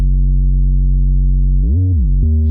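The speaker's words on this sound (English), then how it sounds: "I'm going to select an overdrive distortion" Sustained sub bass or 808 tone run through the stock overdrive distortion plugin in Logic Pro X: a loud, steady, buzzy low note that bends down and back up near the end before settling, with no talking.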